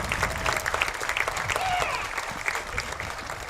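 Stadium crowd applauding for veterans and active duty military at a varsity high school football game between Fort LeBoeuf and North East, a broad, somewhat distant roar of clapping with scattered voices and public-address echoes underneath.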